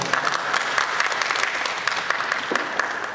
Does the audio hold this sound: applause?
yes